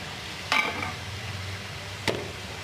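Chicken is stirred and sautéed in a pan of cooking masala for pepper chicken, making a low continuous sizzle punctuated by two sharp scraping clinks of a utensil against the pan.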